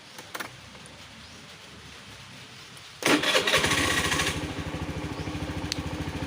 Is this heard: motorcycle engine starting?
yes